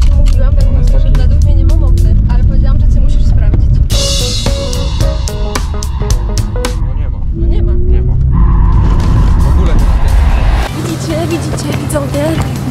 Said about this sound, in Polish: dać to auto Michałowi, zobaczyć czy on przejedzie. Chcę sprawdzić, czy ma moc